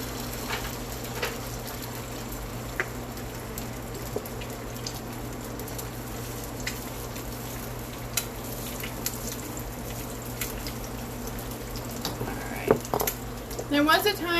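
Eggs fry in a pan with a steady, continuous crackle and sizzle throughout, joined by faint clicks and small scrapes near the end.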